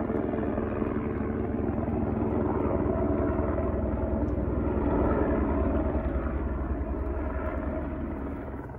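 Helicopter circling over a mountain lake in the Absaroka-Beartooth Wilderness, Montana, a steady rhythmic rotor thump with engine drone at moderate distance, fading slightly at the end.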